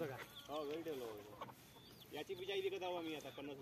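Chickens clucking and calling nearby in short bursts, a few hens overlapping, with faint background noise.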